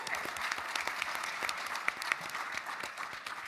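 Audience at a PAX East panel claps in a steady, moderately distant burst of applause that holds for a few seconds.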